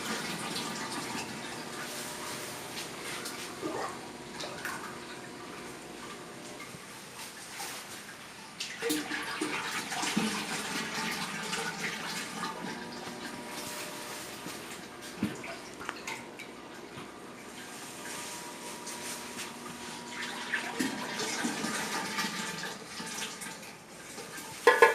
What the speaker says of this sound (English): Just keep adding syrup. So this is just the sugar and the water mixed in.